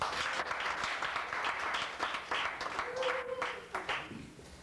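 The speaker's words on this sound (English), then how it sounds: "please, a warm round of applause" Applause from a comedy show audience for an improv troupe, a moderate patter of clapping with scattered cheers, while a voice speaks over it.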